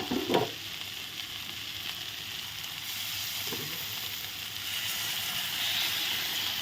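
Mustard, green chilli and ginger paste frying in a pan for a vegetarian dhekia fern dish, giving a steady close sizzle with the soft scrape of stirring. A couple of louder stirring knocks stand out briefly over the constant hiss.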